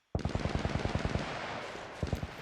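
A fast burst of automatic gunfire from the survival video game SCUM, a rapid string of sharp close shots, a short pause, then a few more rounds.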